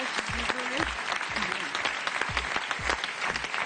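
A studio audience on a French TV game show gives steady, dense applause throughout, with a voice speaking over the clapping.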